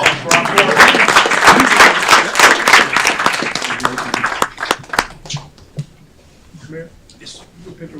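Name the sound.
applause for the board at city council meeting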